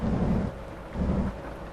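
Rain with rolling thunder in American Truck Simulator, a steady broadband wash of rainfall carrying two low rumbling thunder swells, alone without talk.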